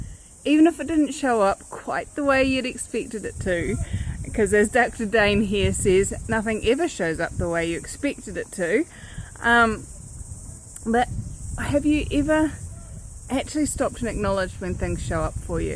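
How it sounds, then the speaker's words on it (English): Cicadas sing steadily in the background as a continuous high buzzing drone, heard throughout beneath a person talking in the foreground. "in the background is the beautiful sound of the cicada song"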